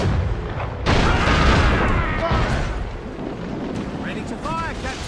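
Ship cannons firing at sea in Assassin's Creed Rogue, a heavy booming blast followed by rolling rumble, wind and crashing water, with further dull thuds and a shout in the background.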